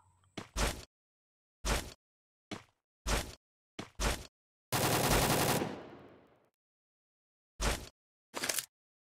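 Gunfire in the Free Fire Max mobile game, a series of short separate shots spaced a second or so apart, then one longer loud blast or burst that decays over about two seconds, followed by two more single shots.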